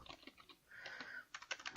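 Typing on a computer keyboard while entering field names into a Microsoft Access table, a quiet run of close, quick clicking keystrokes with a short pause in the middle and no talking.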